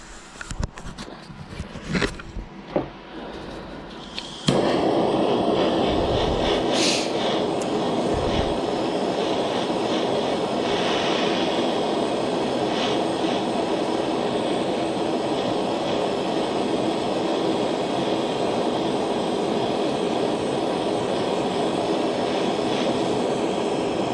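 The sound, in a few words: torch heating metal to solder a ring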